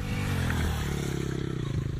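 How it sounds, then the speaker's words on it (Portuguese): A motorcycle passes near a cliffside paragliding launch at Maricá, its engine droning with a rhythmic pulsing note that rises and falls briefly under wind noise. "Isso que surge uma moto."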